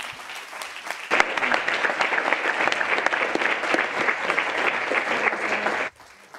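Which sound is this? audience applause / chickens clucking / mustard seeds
audience applause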